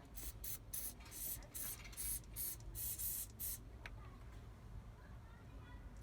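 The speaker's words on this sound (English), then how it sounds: "I'm going to hit this with a little bit of penetrating oil as well" Penetrating oil sprays from an aerosol can onto a Jeep Wrangler TJ seat bolt in a garage, a series of about eight short close hissing bursts in quick rhythm, then quiet.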